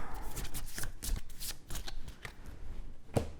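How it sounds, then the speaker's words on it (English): A deck of board game cards from Terraforming Mars is riffled and shuffled back into a draw pile in a string of quick, crisp flutters with small pauses between, close and fairly quiet. "So he's going to shuffle this back into a draw pile in a little bit. Just do that now."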